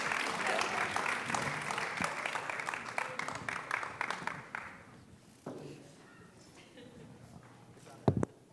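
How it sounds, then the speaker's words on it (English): Audience applause for three student panelists at a young builders' event at Berkeley, a fairly faint clapping that dies away midway, then a few stray claps and one sharp knock near the end. "let's give a big applause to our three panelists."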